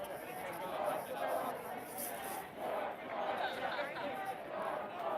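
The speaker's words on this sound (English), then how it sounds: "there's a massive, massive crowd here at Union Square" Thousands of protesters massed at Union Square during a Black Lives Matter demonstration, a dense, continuous roar of crowd chatter and distant shouting that swells and ebbs without pause.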